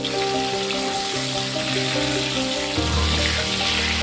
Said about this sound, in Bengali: এই তেলের মধ্যে আমি আলুটাকে ভেজে নেব।